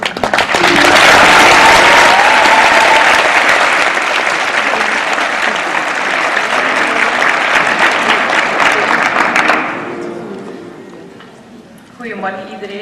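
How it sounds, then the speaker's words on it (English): An audience at a school Euroscola day applauds a student from Belgium as she is introduced. The clapping is loud, dense and sustained for about nine seconds, then fades out, and a voice begins speaking near the end. "Je vous demande d'applaudir Caitlin qui nous vient de Belgique."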